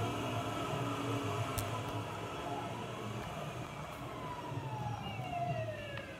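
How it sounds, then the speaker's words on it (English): Emergency vehicle sirens wailing in the game GTA 5, a steady rising and falling whine over a constant rumble of traffic and engine noise, moderately loud throughout. "I heard the sirens"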